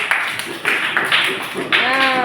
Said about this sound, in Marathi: टाळ्या वाजवा तिच्यासाठी